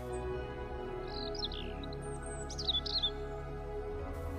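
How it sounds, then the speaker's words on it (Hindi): Chirps from a caged myna bird, a few short bright calls scattered through the middle, moderately near over a steady low background hum, with no talk. "एक पिंजरे में मैना पक्षी बंद थी"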